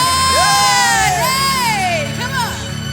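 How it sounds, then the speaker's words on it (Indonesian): Cheering in a Sunday morning church service, with loud rising and falling whoops and calls from the congregation swelling together near the start and trailing off as a crowd murmur. "Mari yang bersuka cita berikan tepuk tangan yang dahsyat bagi Tuhan kita"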